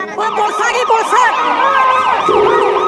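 A loud police siren wails up and down in rapid repeating sweeps, close by, with layered overlapping tones.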